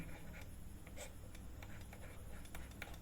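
Pen scratching across paper while a math solution is written out, a faint steady scribble with soft intermittent strokes over low background hum.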